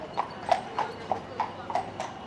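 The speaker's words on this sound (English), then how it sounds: "Beautiful horses." Horses on a street on car-free Mackinac Island, their hooves clip-clopping in a steady trotting rhythm of about seven distinct hoof strikes, moderately close, over faint background ambience.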